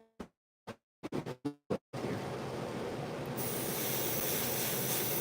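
An airbrush sprays paint onto a model tank, a steady close hiss starting after a few short clicks and bumps and continuing alone to the end.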